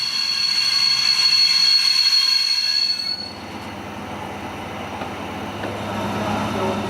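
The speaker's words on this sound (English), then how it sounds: "The train will be pulled by a well-maintained diesel locomotive of the 2143 class" Special train hauled by a 2143 class diesel locomotive, a loud high wheel squeal for three seconds that cuts off into a steady low rumble of rolling rail cars, no talk.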